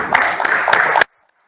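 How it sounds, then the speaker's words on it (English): Applause for an award winner at the ISGF Innovation Awards ceremony, a loud, close burst of many people clapping with some distinct sharp claps, ending abruptly in silence. "Let's have a big round of applause"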